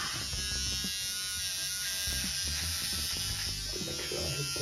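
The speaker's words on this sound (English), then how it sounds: "First shave of the year." An electric shaver buzzes continuously and loudly up close as it cuts through a full beard, the motor tone wavering slightly as it moves across the face.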